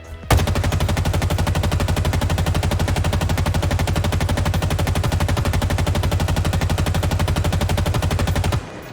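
An assault rifle fires in Halo Infinite, one long unbroken burst of rapid automatic shots lasting about eight seconds, loud and close with no talking, ending abruptly.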